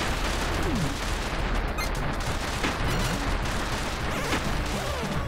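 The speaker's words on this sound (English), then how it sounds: "I have a rocket launcher now" Rocket launcher fire in the retro-styled action game Retro City Rampage: a loud, unbroken barrage of blasts and crashing impacts packed tightly together for the whole stretch, with no pauses.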